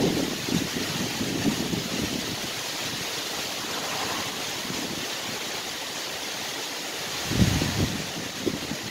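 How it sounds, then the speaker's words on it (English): Steady heavy wind buffets the microphone in a constant rushing roar, with a couple of louder gusts near the end. "It is super windy."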